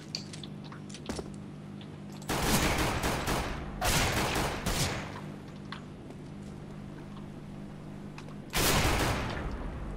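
Bursts of rapid gunfire in Counter-Strike: Global Offensive, three loud broadband volleys a few seconds apart over a steady low game hum, the middle burst longer and ragged, the last one short and sharp.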